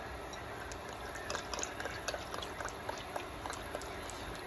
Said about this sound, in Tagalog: lagyan natin ng oil